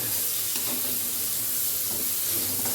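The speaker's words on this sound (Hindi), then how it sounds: "दाल पे तड़का लगा दिया है, सिम पे अभी रख दी है कढ़ाई में ढक करके" A tadka of tempering sizzles and hisses over dal in a kadai, a dense steady frying crackle close by and continuous, with no talking.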